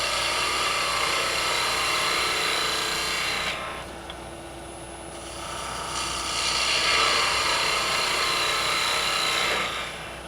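A wood lathe spinning a spindle-grain blank while a roughing gouge cuts, giving a steady whirring motor hum with a hissing cutting rasp that drops out, then returns and fades again.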